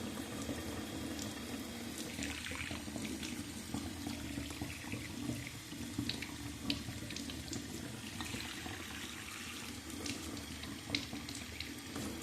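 Water runs steadily at minimum flow through a Wezer SDS-F9TC instant electric water heater with a constant rushing hiss and faint low hum, close by with no voices.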